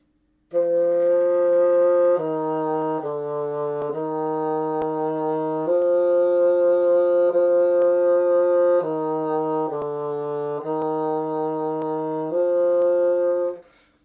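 Bassoon playing a slow legato line of sustained, connected notes that shift step by step, heard alone and close with no talking over it.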